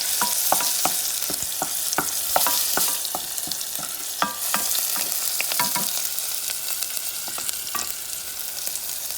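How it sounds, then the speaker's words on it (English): Garlic sizzles in hot oil in a pan for Cuban-style black beans, a steady bright hiss broken by frequent sharp crackles and spoon-scraping stirs, close and fairly loud with no talking. "Add your garlic. Let it simmer for about a few seconds"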